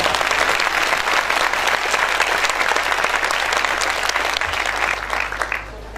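An audience at a sermon by a Jain acharya breaks into loud, dense applause that holds steady for about five seconds, then fades out.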